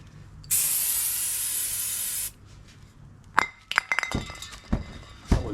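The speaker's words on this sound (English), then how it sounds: "I've got a wee spray in it" Brake cleaner sprayed on BMW 1 Series brakes, one steady hissing burst under two seconds long, followed by sharp metallic clinks and knocks of tools and parts.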